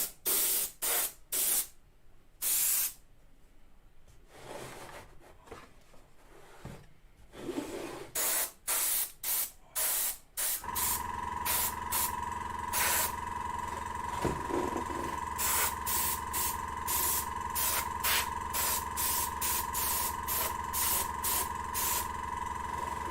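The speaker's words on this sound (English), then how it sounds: "So this is just a black coat going on" An aerosol spray can lays a black base coat onto a waterfall diorama model in short bursts of hiss at first, then a long continuous spray, close and steady, with a constant mechanical hum underneath.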